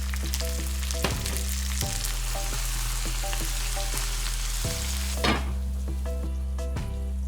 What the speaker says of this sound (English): after we have the mushroom sauteed a bit